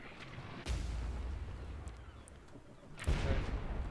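Two heavy booming cannon shots in the Blazing Sails pirate ship game, deep low-end blasts about two and a half seconds apart over a quiet rumbling background, fairly muffled and distant.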